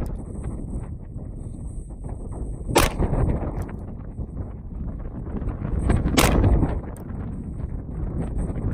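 A CZ P10C pistol fired in double action on a range, two distinct sharp shots a few seconds apart, heard somewhat distant over steady wind buffeting the microphone.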